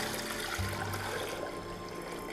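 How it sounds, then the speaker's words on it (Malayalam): About one litre of water pours into a pot set on a stove, a brief steady gush that starts suddenly and runs for under a second amid a continuous background hiss. "അടുത്ത ഈ പാത്രം സ്റ്റവിലേക്ക് വെച്ച് 1 ലിറ്റർ വെള്ളം നമുക്ക് ഇതിലേക്ക് ഒഴിക്കാം."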